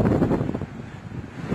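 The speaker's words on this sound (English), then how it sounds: "but very, very windy." Strong wind buffets the microphone outdoors in Denmark, a loud, continuous rumbling roar with gusty swells and no speech.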